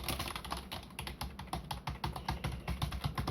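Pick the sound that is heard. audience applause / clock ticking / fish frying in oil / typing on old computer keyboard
typing on old computer keyboard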